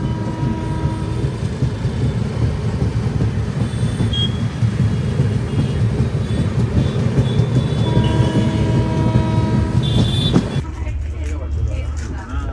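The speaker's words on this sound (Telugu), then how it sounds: "రాంచీ నుంచి బనారస్ వచ్చే ట్రైన్ అది. ICF కోచెస్తో ఉంది." A Ranchi to Banaras train of ICF coaches rumbles past at Varanasi, a loud continuous roar of wheels and carriages that cuts off abruptly near the end.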